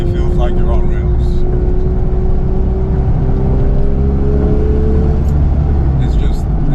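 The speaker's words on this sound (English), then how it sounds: "Downshifts sound fantastic in the car." A 2003 Porsche 911 Carrera 4S engine and exhaust drones steadily through a drive, loud and close, with a voice running over the engine note.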